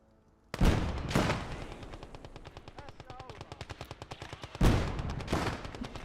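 Gunfire in the World War II strategy game Gates of Hell: Ostfront: sharp machine-gun bursts and rapid rattling shots, with two loud, heavy reports near the start and again near the end.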